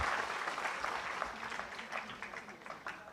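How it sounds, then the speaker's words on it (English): Applause in an auditorium at the inauguration of a school lab event, honoring the coordinators and teachers, soft and somewhat distant, a steady patter that fades slightly near the end. "can we have a clap for the coordinators and the teachers of these KVs?"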